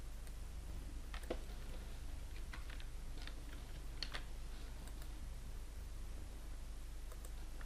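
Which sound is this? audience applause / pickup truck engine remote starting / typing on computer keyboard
typing on computer keyboard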